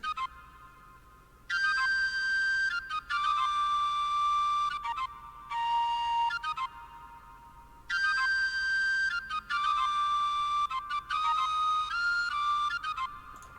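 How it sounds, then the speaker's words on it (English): A bright, whistle-like flute melody plays in phrases with short pauses between them, steady and clear with no voices. "this is what I did with the flute for the counter melody."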